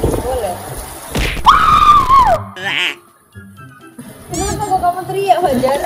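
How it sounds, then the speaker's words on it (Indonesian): A child screams outdoors on an open field. One long, loud, high-pitched shriek lasts about a second, and people talk nearby before and after it. "Kenapa kok kamu teriak"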